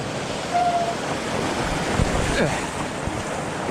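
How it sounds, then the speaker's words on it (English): Steady broadband rush of a large, cold river at a crossing in snowy terrain, with wind buffeting the microphone and no speech. "Here it is, the dreaded big river crossing."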